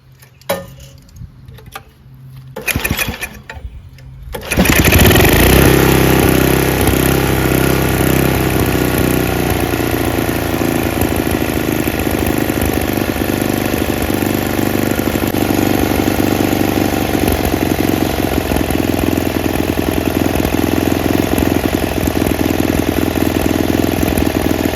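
A Craftsman track drive snowblower's small engine, quiet clicks at first, then it catches into a loud, close, steady idle that surges slightly, running continuously with no talking.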